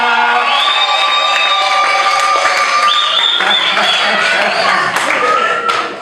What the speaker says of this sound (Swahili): makofi kwa ajili ya Roho wa Bwana